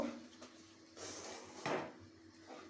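A spoon scrapes and knocks against a pan while peanut paste is stirred into sugar syrup for peanut barfi, giving a few soft scrapes and clanks close by with no talking.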